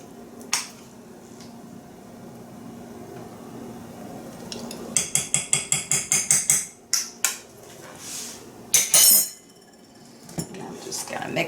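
Monster cookie batter with a teaspoon of vanilla extract being mixed, a run of quick sharp clinks and scrapes of a utensil against a bowl coming in rapid bursts, close and fairly loud against a quiet kitchen background.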